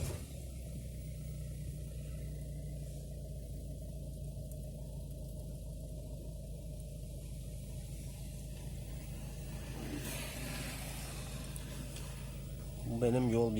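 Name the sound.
Peugeot 508 car engine starting and idling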